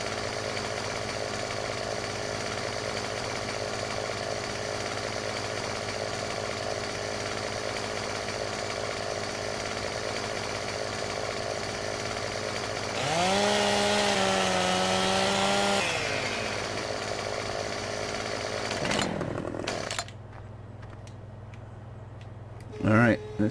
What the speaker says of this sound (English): Can I chainsaw this signpost down?